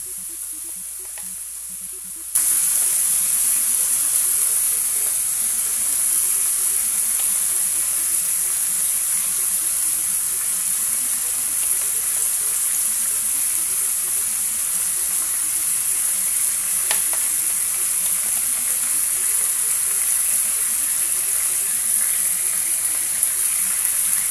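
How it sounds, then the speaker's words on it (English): Steady, dense sizzling from corn kernels frying in a hot pan, continuous and close, with a brief quieter moment at the very start. "I love the sound of the sizzle."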